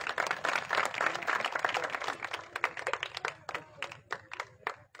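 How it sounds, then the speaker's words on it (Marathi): A rally crowd breaks into dense, enthusiastic clapping that stays strong for a few seconds, then thins into scattered claps as it fades. "टाळ्या होऊन जाऊ द्या एकदा"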